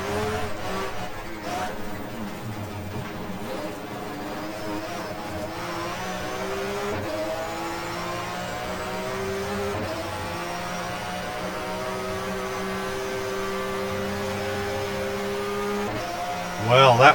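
A 1994 German Touring Car Cup touring car in GTR2 races at Spa, its engine note rising and falling in long revving sweeps through the gears, loud and continuous, with a sharp surge near the end.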